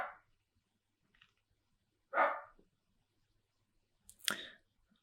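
A dog barks in two short, separate bursts with quiet gaps between them, moderately loud, and no one speaks over it.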